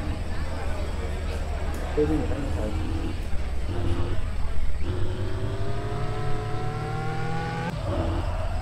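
A game car drifts in Car for Sale Simulator, its engine whining upward in rising revs between short bursts of acceleration, steady and close, with someone talking over it at times.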